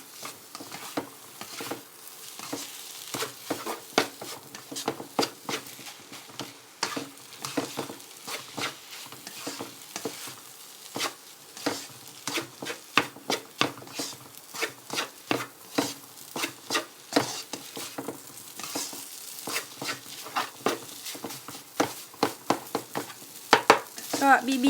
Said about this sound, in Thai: ใส่ข้าวลงไปคลุกได้เลยค่ะ